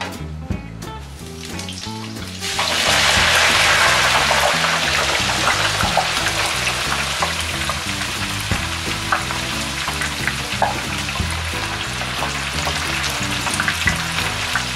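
Quartered Brussels sprouts, about 2.5 cups, drop into a tabletop deep fryer at 350 degrees. A loud, dense, bubbling roar of hot oil bursts in and carries on steadily, with no talking.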